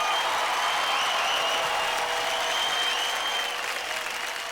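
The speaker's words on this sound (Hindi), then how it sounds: "ये तालियां रुकनी नहीं चाहिए," Studio audience applauding during the grand finale of a Hindi TV reality show, a steady, dense wash of clapping that stays loud and even throughout with no talk over it.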